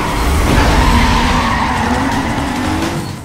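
A Toyota Supra racing in Need for Speed: Most Wanted during a sprint race, loud engine roar with a long squealing tire skid sweeping across, close and steady before easing off at the end.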